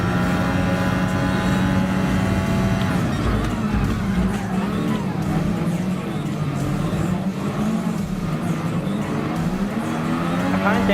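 Ayrton Senna's Lotus 97T Formula 1 car racing in Gran Turismo Sport, its engine droning loud and steady with pitch swings as it shifts and accelerates through the whole stretch, while a voice talks over it.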